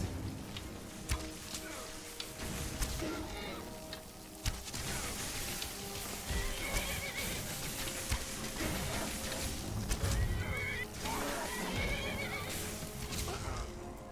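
A video game horse neighs and whinnies repeatedly while hooves clip-clop steadily, with occasional voices talking over the busy game soundscape.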